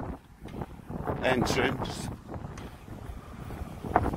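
Gusty wind buffets the microphone outdoors at the entrance to a test centre in York, with rumbling bursts that rise and fall as someone talks over it.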